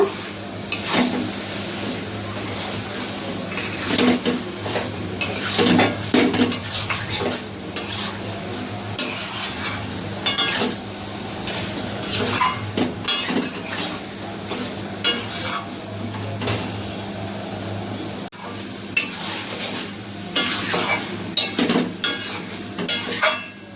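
Goat liver and meat frying in a pan while being stirred hard, a busy close sizzle layered with frequent metallic scrapes and clatters of the spoon against the pan.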